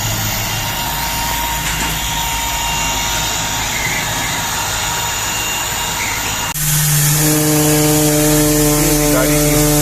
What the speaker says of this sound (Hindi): कंपाउंडिंग इस वक्त चल रही है।